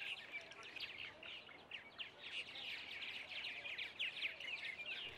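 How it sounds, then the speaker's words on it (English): Martins call at a large nesting colony in Travis County, Texas. A dense, continuous stream of high chirps and chatter goes on throughout, busy and moderately close. "now we have the largest martin colony in Travis County"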